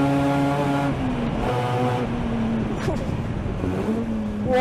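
Engine of the 1981 TWR Mazda RX7 race car, a Spa 24 Hours winner, revving with a steady, rasping note that climbs and dips, loud and close throughout.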